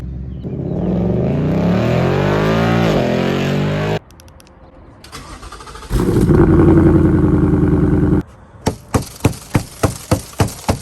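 A 2021 Ford Mustang Mach 1 with the handling package revs loudly and close up, rising through a sustained engine pull, then idling and surging again before ending in a string of sharp, evenly spaced blips.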